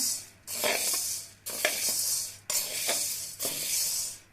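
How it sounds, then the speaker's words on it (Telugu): Whole black gram dal rattles and hisses as it is stirred and dry-roasted in a pan, four rhythmic scraping sweeps with brief pauses between, close and steady with no talk. "వేయించుకుంటున్నాను చూడండి గుండు మినపప్పు గోల్డెన్ కలర్లోకి మారింది"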